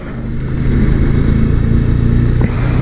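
A motorcycle ridden with a helmet-mounted GoPro Hero 7 on a road beside a house, engine note steady and loud as it gathers speed, with rushing wind throughout and a brief dip near the end.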